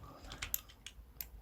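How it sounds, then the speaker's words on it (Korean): Faint, soft clicks come from a computer keyboard key being pressed, a few light taps in quick succession within a quiet moment. "키보드 E를 눌러서"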